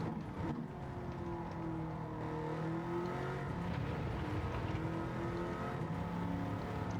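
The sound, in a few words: Bugatti Veyron engine racing lap in Gran Turismo 7 video game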